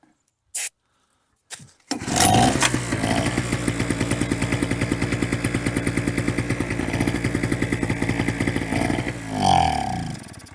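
A small borrowed generator engine, started with ether, catches after a few knocks and runs with a loud, steady rapid chugging pulse, rising briefly near the end.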